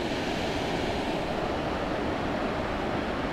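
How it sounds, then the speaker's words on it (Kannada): Elaneeru waterfall pours as a loud, steady roar of rushing water, broadband and unbroken throughout, heard on its own without any voices. "ಎಳನೀರು ಜಲಪಾತ ಅಂತೆ"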